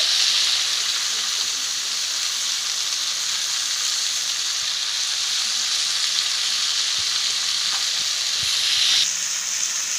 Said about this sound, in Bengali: মাছগুলো যাতে ভেঙে না যায় সেজন্য আমি হালকা করে নাড়বো।